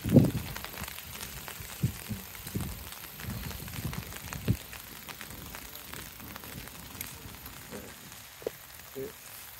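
Rain falling on a lotus garden in Gifu, Japan, a soft, continuous patter with scattered close drips and taps, some louder drops standing out irregularly over a faint background.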